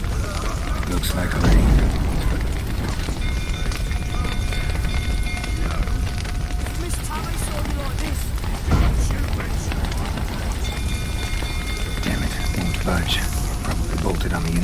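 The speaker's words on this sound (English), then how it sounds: "fire's spreading" Fire spreading and burning in The Witcher 3, a steady roaring crackle with rain-like hiss and a couple of heavy low thumps, continuous throughout under game sounds and voices.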